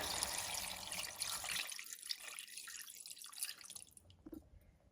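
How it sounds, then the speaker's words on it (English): Water trickles and splashes steadily into a cooking pot, a continuous liquid pouring sound that stays fairly quiet with no voices. "Now I'm gonna add some water."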